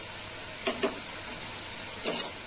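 Turmeric powder fries with browned onions in a pan, a steady sizzle with a few quick stirring scrapes nearby and no talking.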